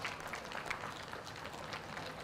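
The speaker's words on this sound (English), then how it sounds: "Big round of applause for our adults that get out here and participate" A short burst of applause from a crowd at a livestock show cattle event, light scattered clapping, moderately distant, with no voices.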